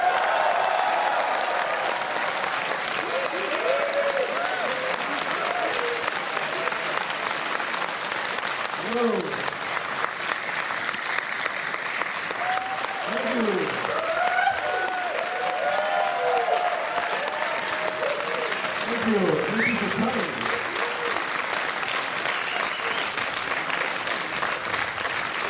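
Large premiere audience in Paris applauding and cheering loudly and continuously as the director of Machete Kills, Robert Rodriguez, is introduced, with scattered shouts and whistles rising over steady clapping throughout.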